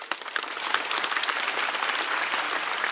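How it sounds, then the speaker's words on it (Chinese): Audience at a Chinese stand-up comedy show applauding its eight performers, a dense, loud, sustained round of clapping that fills the whole stretch without a break. "再次把掌声送给我们8位表演嘉宾"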